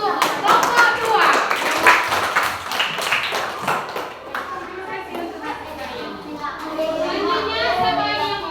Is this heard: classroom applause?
yes